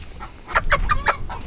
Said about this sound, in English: this is a big mama hen right here